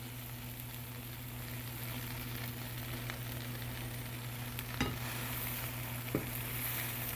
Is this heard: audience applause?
no